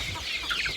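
Backyard chickens and chicks cluck and chirp softly in a short, close burst of overlapping calls.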